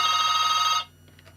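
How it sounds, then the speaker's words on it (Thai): A telephone rings with an incoming call during a Buddhist dharma talk broadcast, a loud steady electronic trill that cuts off abruptly, leaving faint room noise. "ก็มี โทรศัพท์โทรมาเห็นเนาะ"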